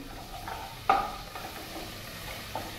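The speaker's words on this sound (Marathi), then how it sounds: "हे असं बघा, व्यवस्थित त्याला असं परतून घ्यायचं" Onion being stirred and sautéed in a pan with a spoon, soft sizzling and a few distinct scraping clinks of the utensil, quiet and close without talk.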